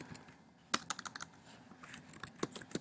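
Quick, close clicks of typing on a computer keyboard, an irregular run of keystrokes with a few louder taps and no talking.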